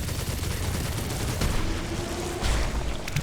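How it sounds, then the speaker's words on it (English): Cannon fire from the video game Silksong comes as a loud, dense burst of rapid booming shots with a rumbling low end and a heavier blast near the end. "I could just unload with the cannon."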